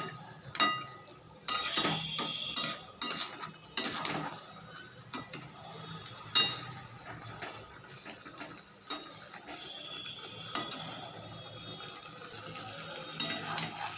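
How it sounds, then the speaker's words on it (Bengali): A spoon stirring and scraping chicken with spices in a pan, giving intermittent light clinks and taps at an uneven pace, fairly quiet and close with no talk. "ভালো করে নেড়ে চেড়ে মশলার সাথে চিকেনটাকে মিশিয়ে নিচ্ছি।"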